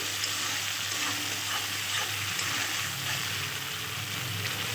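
A vegetarian green-banana kofta curry base with added cashew paste sizzles steadily in a pan while it is stirred, giving a continuous frying hiss with soft scraping throughout.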